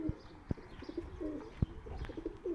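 A young pigeon with poorly grown neck feathers coos softly in a coop, giving low, repeated murmuring coos with a few sharp knocks between them.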